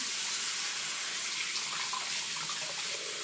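Warm tap water runs steadily into a basin being filled, a continuous close splashing hiss with no pauses and no voices.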